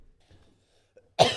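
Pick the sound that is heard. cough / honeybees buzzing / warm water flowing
cough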